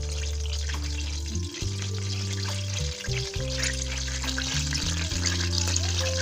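Hot oil sizzling in a pan while dhaba-style aloo gobi is cooked, a steady close crackling hiss running under a prominent sustained tonal hum that shifts pitch in steps.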